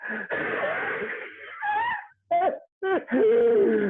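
A voice imitates heavy breathing after exertion, with long raspy wheezing breaths followed by shorter choppy gasps, close to the microphone.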